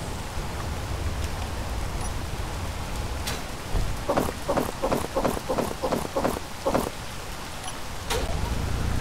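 Rain falling on an alien planet in the video game Space Engineers: a steady, dense hiss of rainfall throughout, with a run of rhythmic rumbling pulses through the middle and a low thunder-like roll near the end.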